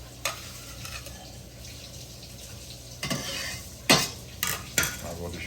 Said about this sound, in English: We're going to add our ginger that I have sliced up.